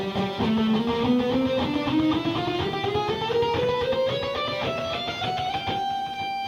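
Electric guitar runs a pentatonic exercise with every note picked twice, a steady stream of paired plucks climbing in pitch, close and clean with no talking.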